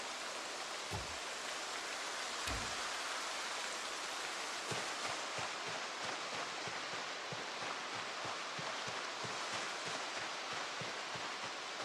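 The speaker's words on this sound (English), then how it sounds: "And now it's raining on us." Steady rain falls in the zombie survival game Project Zomboid, a constant wash of hiss with no talk, broken near the start by two low thuds.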